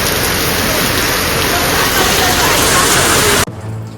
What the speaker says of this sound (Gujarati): બહુ એટલે બહુ ભયંકર વરસાદ છે અત્યારે